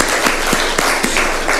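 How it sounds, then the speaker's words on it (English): A crowd claps at a launch event, a dense, loud wash of applause with rhythmic bursts throughout and no talk. "Simama, we clap for you at least."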